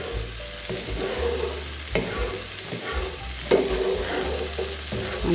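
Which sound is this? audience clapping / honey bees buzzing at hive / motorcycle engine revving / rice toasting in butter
rice toasting in butter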